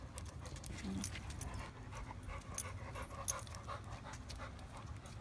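Two dogs pant in quick, soft rhythmic breaths nearby, with a faint whimper and a few light jingly clicks, all fairly quiet.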